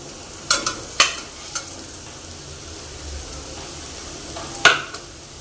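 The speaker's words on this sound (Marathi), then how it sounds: "त्याच्यामध्ये आता आपण उकडलेले बटाटे टाकून घेऊयात" Boiled potatoes tumble into a pan of frying onions and are stirred, with a few sharp clacks of the spoon on the pan over a low, soft sizzle.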